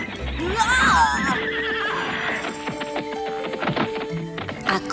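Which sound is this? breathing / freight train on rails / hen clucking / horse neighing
horse neighing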